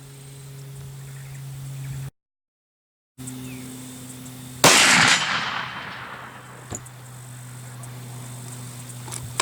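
A single loud .500 Magnum gunshot fired at a steel target cracks out over a steady outdoor insect drone, its blast decaying over about a second, followed by a faint distant tick from the steel.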